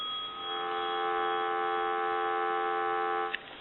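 A steady telephone dial tone from a Western Electric rotary desk telephone hums continuously at an even level, ending with a faint click.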